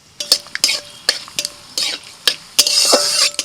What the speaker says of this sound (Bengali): তেলের মধ্যে ফোড়নে দিচ্ছি একটা শুকনো লঙ্কা, সর্ষে, একটুখানি গোটা জিরে, কারি পাতা,